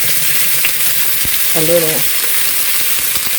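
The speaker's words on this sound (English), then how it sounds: "I'll cook that sizzling in a minute." Hamburger meat fries in a pan with a steady close sizzle and crackle throughout, while someone speaks briefly and quietly over it.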